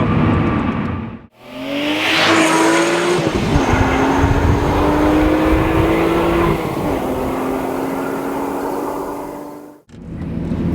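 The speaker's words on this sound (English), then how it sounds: "there's pretty brisk acceleration in a 12-cylinder Lamborghini" A Lamborghini Murcielago's V12 engine accelerates hard for about eight seconds, its loud rising roar broken by a quick gear change midway, with a brief lift at the start and a cut-off at the end, no talking over it.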